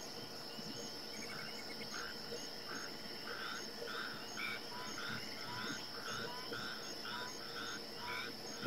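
Night chorus of frogs, crickets and bullfrogs in hunting-game wilderness: repeated chirping calls pulse steadily over a constant high insect drone, with no talk.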